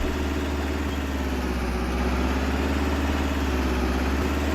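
Idling John Deere tractor engine in Farming Simulator 22, a steady low mechanical drone with a faint rhythmic chug that holds evenly throughout, fairly loud and close with no talking over it.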